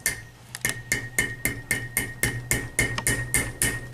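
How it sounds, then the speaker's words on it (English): A small hammer strikes the strap end on a Fast Lok C2 clamp tool, flattening it: about a dozen sharp metallic taps in a steady, even rhythm, close and alone. "Little hammer strokes like this,"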